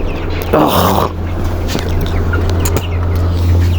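A spirited chicken being chased as it dashes about, giving a short burst of loud clucking and squawking close by over steady background noise and a low hum.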